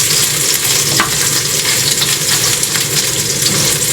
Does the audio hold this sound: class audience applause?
no